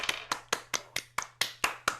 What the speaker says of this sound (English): Give our friend over here a wonderful round of applause